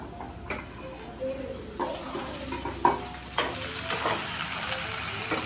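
Onions sizzle in a pan for okra stir-fry as a utensil scrapes and clinks against the metal, giving a soft, continuous frying hiss broken by irregular taps and stirring scrapes.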